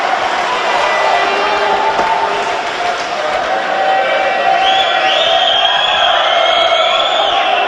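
Crowd cheering and whooping at a 1998 amateur boxing bout between Alan Bosworth and Alan Temple, a loud continuous roar of the audience with whistles rising near the end, filling the hall between rounds.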